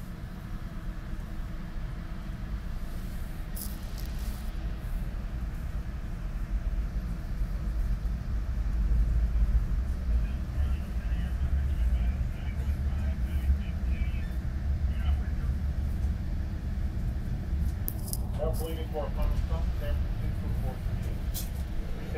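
A steady low rumble of a moving northbound Caltrain commuter train carries on throughout, with faint rattles and squeaks, while someone talks over it at times.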